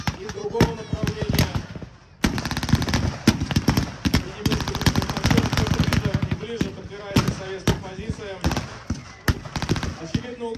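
Dense bursts of small-arms and machine-gun fire crackle through a World War II battle reenactment near a station and forest, sharp overlapping shots close by with brief gaps, joined by louder single reports.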